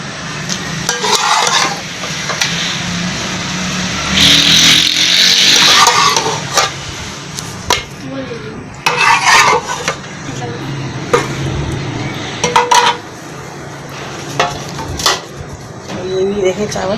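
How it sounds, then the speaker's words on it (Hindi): Rice is stirred together with korma in a pot for Karachi-style layered biryani, with bursts of metal spoon scraping and clanking against the pot between stretches of talk. "अब ये इसको मिक्स करेंगे अच्छी तरीके से चावलों में"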